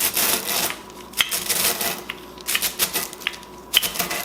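Cornflakes are crushed under parchment paper to make crumbs for a pumpkin cream pie crust, giving loud, crisp crackling and crunching in irregular bursts with short sharper snaps.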